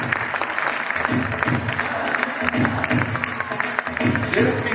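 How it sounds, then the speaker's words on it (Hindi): An audience at a stand-up comedy show claps steadily and loudly, with a dense patter of hands throughout. A host's voice carries over the applause. "Once again, जोरदार तालियां मोहित जी के लिए इतने शानदार स्टैंड अप कॉमेडी प्रेजेंटेशन के लिए।"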